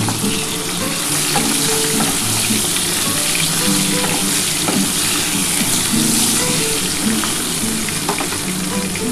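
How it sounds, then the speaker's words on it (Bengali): Potatoes with turmeric and salt fry in a pan for a mutton and potato curry, giving a loud, continuous sizzle with steady stirring and no talking. "এটা ভালো করে একটু ভেজে নেব"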